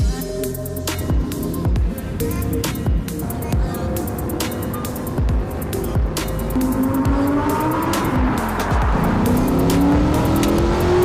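A rented Lamborghini roars and revs loudly and continuously, engine pitch climbing and falling with tire squeal mixed in, close and dominant throughout.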